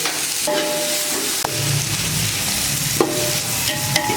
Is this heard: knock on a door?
no